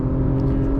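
A 2021 Acura TLX Type S drives on the Laguna Seca track, its engine a loud, steady droning hum heard from inside the cabin, with no voices over it.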